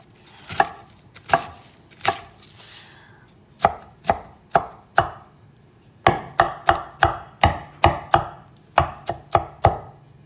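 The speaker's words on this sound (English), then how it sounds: "And I just cut that end off." A knife chops through bok choy on a cutting board in sharp, distinct strikes, a few spaced at first, then a quicker run of even chops, close and clear with no talking.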